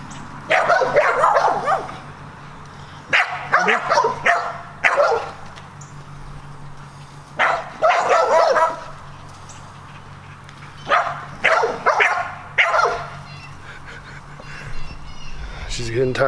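Dogs barking in short repeated bursts, loud and close, with quieter pauses between volleys and a person speaking nearby.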